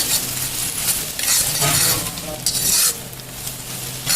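Chopped garlic sizzles steadily in hot oil for a mutton curry, with a spoon stirring and scraping through the pan in uneven strokes, close and fairly loud throughout.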